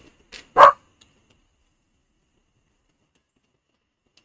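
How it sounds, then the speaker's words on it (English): One short, loud bark from a dog close by, preceded by a faint yip, then near silence. "Why are you barking so much today?"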